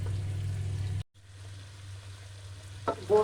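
Meat frying with onions in a pan for ghiya gosht gives a steady low sizzle that cuts out briefly, resumes, and ends with a few clattering stirs.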